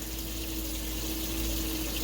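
A cup and a half of water pours steadily over homemade dog food, making a continuous splashing gush with no break and no voices.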